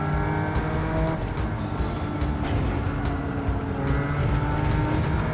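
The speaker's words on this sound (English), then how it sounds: "You can hear those tires squealing." A Porsche 992 Turbo S race car engine drones loudly and continuously in Gran Turismo 7 while worn tires squeal intermittently under it, a gritty, sustained roar with no talking.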